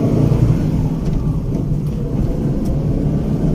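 Maruti Suzuki Eeco van with a 1.2-litre petrol engine running, a steady low drone and road rumble heard from inside the cabin, continuous and moderately loud with no talk.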